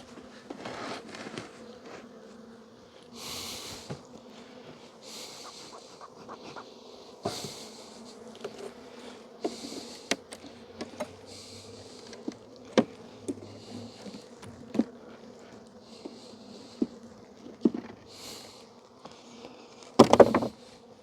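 Honeybees buzz steadily around an opened hive during an early-spring inspection, a low drone close by with individual bees zipping past the microphone, punctuated by occasional light taps and knocks.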